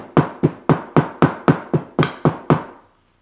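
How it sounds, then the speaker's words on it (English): Hammer blows on the tight corners of a handmade leather zip wallet: ten sharp, evenly spaced strikes in quick rhythm, close and loud, each fading briefly before the next, then stopping. "Now the corners are very tight, but just hammer the hell out of them."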